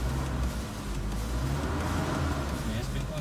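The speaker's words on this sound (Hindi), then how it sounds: "अभी इसकी एक्सेलरेशन देते हैं हम इसको" A 2009 Toyota Fortuner engine revving after a P0121 and black smoke fault repair, a dense steady mechanical roar, loud and close, with a faint voice in the background.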